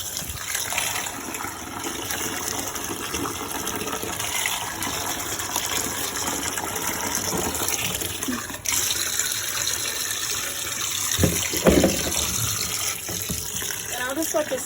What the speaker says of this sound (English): we're just gonna go ahead and add water in here